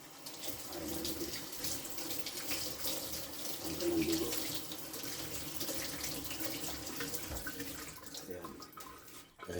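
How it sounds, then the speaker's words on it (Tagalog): Tap water runs steadily into a sink while catfish is rinsed before cutting, a continuous close splashing flow with brief handling sounds and a short spoken remark. "Hugasan ko muna sa tubig."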